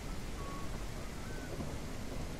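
Steady rain and rumbling thunder ambience in a wildlife survival game wash over everything as a dense, even roar, constant and fairly loud with no breaks.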